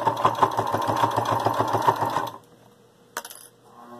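A sewing machine runs a quarter-inch seam on a fabric bowl cozy in a steady rhythmic hum for about two seconds, then stops, followed by a brief click.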